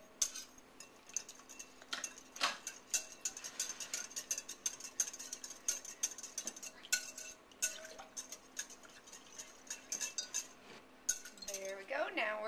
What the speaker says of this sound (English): I like to blend it really well with my whisk.